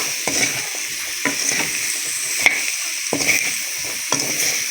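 Cut, washed potatoes frying in a pan with salt are stirred in short, repeated scraping strokes over a steady close sizzle.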